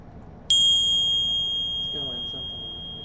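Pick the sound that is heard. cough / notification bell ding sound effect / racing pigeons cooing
notification bell ding sound effect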